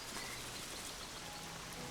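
Heavy rain pours across the Serengeti, a dense, even hiss of countless drops with no pauses, steady and moderately faint.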